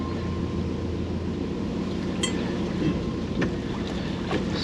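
Steady wind and water wash around a boat rocking on the Norfolk Broads, a broad continuous rumble with a faint hum and a few soft knocks and creaks.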